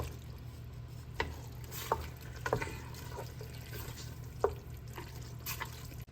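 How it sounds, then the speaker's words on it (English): Peas and carrots stirred into a simmering shepherd's pie filling, with a spoon giving scattered soft scrapes and clinks over a low, steady cooking hum and no talking. "We're going to add our peas and carrots. And we're going to get that mixed up, combined well"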